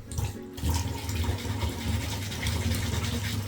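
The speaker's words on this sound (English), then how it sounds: "So start off with sanding it, some water." A resin 3D print is wet-sanded with water and 120 grit sandpaper, a steady rhythmic wet scrubbing rasp close up, continuous and without talk.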